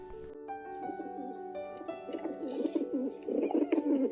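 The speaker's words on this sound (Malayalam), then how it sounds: "പ്രാവ്." A pigeon coos in soft, repeated throaty phrases that grow fuller toward the end, heard alone over a faint tonal background.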